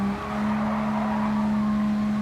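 Tyres skidding on a British racing car in a Nations Cup online racing game, a steady engine drone with a continuous squealing slide running the whole way through, loud and close.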